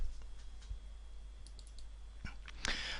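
Quiet computer keyboard and mouse clicks while working in an Excel 2013 spreadsheet, a handful of sparse, soft taps spread over a few seconds with a low hum beneath.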